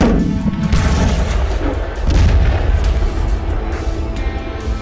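Heavy rumbling booms and dull thuds from missile strikes near Kyiv during the Russian attack, loud, low and continuous, with crashing bursts layered over a constant roar.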